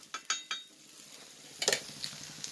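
Wheat, jaggery and ghee appam batter being stirred and cooked in ghee, with a few light clinks of a utensil against the pan followed by a brief soft sizzle and scrape, quiet and close.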